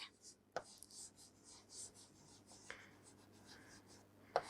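A pen scratches across paper in short strokes during a biology lesson, soft and close, with a few sharper taps as the pen touches down in a quiet room.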